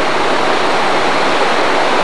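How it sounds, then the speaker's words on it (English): The Merced River rushing by in a steady, dense roar of fast-flowing water, loud and close, with no voices over it. "This is the Merced River rushing by."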